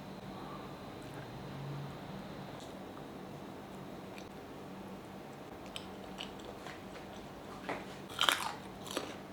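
Someone bites and chews an egg yolk topped with spicy buldak sauce, soft squishy mouth sounds up close, with a few sharper crunchy bites near the end, in a quiet room.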